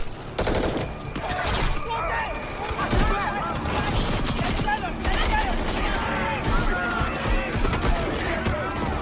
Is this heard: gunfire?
yes